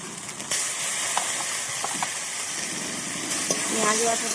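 Onion paste sautéing in a pan for an egg curry, just after ginger-garlic paste went in: a steady broadband sizzle with light spatula scrapes and taps, growing slightly louder partway through, no voices.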